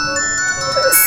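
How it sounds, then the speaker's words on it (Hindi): A mobile phone rings somewhere off to the left inside a building during a comedy scene, a steady electronic ringtone pattern at moderate loudness with some faint background voices. "फोन की आवाज आ रही है, हमारे बाएं तरफ से आ रही है।"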